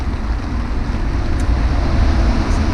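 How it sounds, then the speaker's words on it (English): Heavy rain pours down at a fishing pit, a dense, steady roar of rainfall that stays loud and constant throughout with no voices. "It's pouring down now."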